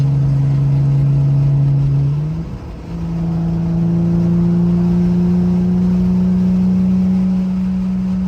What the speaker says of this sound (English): Damn, that shit loud. think this V6 Challenger was trying to race me.